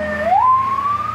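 An ambulance siren wails, its tone sweeping upward and then holding a high steady pitch, loud and close for a brief moment.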